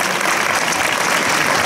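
Audience at an Italian political rally breaks into sustained applause, a dense, even clapping from a sizeable crowd with no voices on top.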